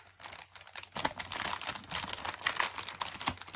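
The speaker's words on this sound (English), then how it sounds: "So, they're crinkling." Plastic packaging around craft items crinkles in a dense, continuous run of crackling after a brief quiet start, close and fairly loud, with no talking.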